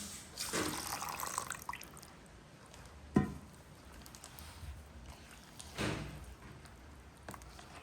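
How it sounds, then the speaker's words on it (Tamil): Milk poured into wheat flour and coconut milk dosa batter, soft liquid splashing with a few louder sloshes and bumps, quiet and free of talk. "கொஞ்சம் பால் அதையும் விடுவோம்"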